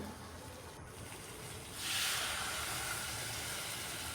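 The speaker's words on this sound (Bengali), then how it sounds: "এবার দিয়ে দিচ্ছি জল।" Water poured into a pan of frying chicken masala: a low background hum, then a sudden, broad rushing hiss as the liquid hits the hot spices, holding steady and fairly quiet to the end.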